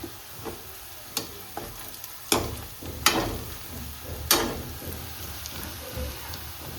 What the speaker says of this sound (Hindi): प्याज लहसुन वगैरह सब भून रहा है